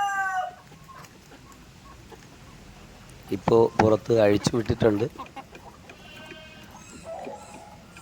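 Naked neck chickens, a large domestic breed reaching about three and a half kilos, cluck loudly and close in a burst of repeated calls mid-clip, with someone speaking before and after.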